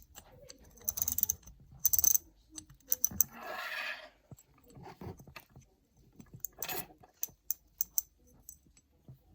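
Ratchet and pawl mechanism clicking up close, sharp irregular clicks and short bursts of ratcheting with a brief whirring rasp in the middle, fairly faint, with no talk.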